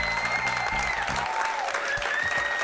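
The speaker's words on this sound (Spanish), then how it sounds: "Ha venido Silvia, un aplauso para ella." A studio audience applauds steadily as Silvia is welcomed onto a Spanish-language television show, with sustained clapping and a tonal music bed running underneath throughout.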